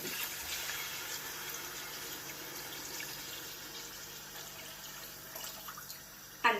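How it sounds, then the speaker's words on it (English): Water pours steadily into a pot of stew during a school cooking contest, a continuous rushing splash that holds even for several seconds before a brief clatter at the end, with no voices. "Now we are going to be pouring the water."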